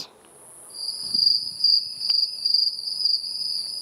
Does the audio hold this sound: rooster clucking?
no